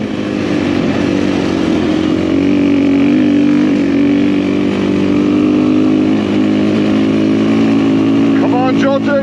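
A motorcycle engine drones steadily while riding on Portuguese roads, a loud, close, even hum with a constant pitch and slight swells in intensity throughout.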